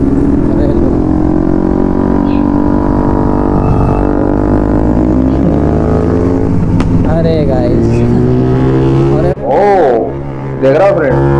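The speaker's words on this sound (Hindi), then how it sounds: "एग्जॉस्ट का साउंड सुन रहे हो आप, उसका कितना ज़्यादा लाउड लगा रखा है उसने" A loud motorcycle exhaust roars steadily during an informal bike race, its drone rising and shifting in pitch, while someone talks over it.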